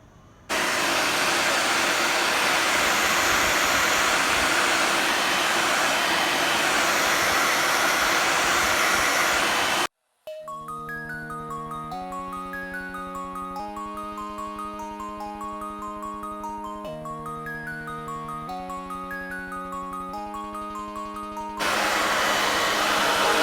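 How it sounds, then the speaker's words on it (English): Blow drying hair after washing: a loud, steady hair dryer roar runs continuously, briefly cuts out, and returns near the end, with a droning tonal hum in the middle stretch. "Then we are going to blow dry."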